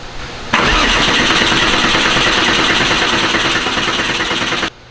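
A Porsche 964 engine cranks on its first start-up: a loud, close, steady starter churn with a fast pulsing rhythm runs for about four seconds, then cuts off abruptly. No one speaks.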